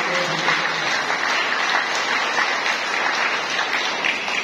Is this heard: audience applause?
yes